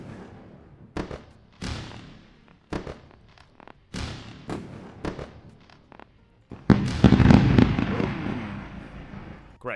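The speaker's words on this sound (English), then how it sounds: "Let's do a nice fireworks show for our buddy." A fireworks sound effect plays during a livestream: a series of loud, sharp bursts spaced roughly a second apart, then a dense crackling barrage of pops toward the end.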